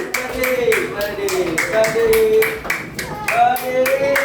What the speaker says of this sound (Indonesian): mari kita bertepuk tangan terlebih dahulu semuanya